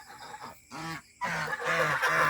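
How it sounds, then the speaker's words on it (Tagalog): Geese honking on a Philippine backyard farm, with several loud nasal honks repeating close by, one after another, amid other fowl calls. "So ayan yung gansa"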